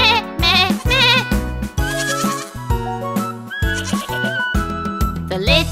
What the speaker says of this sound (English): The little billy goat